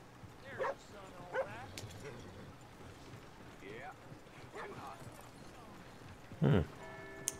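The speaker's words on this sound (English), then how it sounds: "There's a dog." Dog in Red Dead Redemption 2 gives a few scattered barks and yips amid a quiet town scene, with distant hoof clip-clops and a sharper bark near the end.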